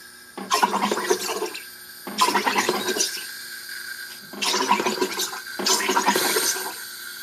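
A SodaStream carbonates sweet and sour sauce in four loud, close bursts of rushing, gurgling gas, each lasting about a second with short quiet gaps between them.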